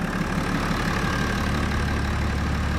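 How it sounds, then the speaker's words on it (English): A BMW 335d diesel engine idles with its covers off, a steady low rumble with a slight clattering texture, close and unchanging with no talk. "Sounds like a diesel."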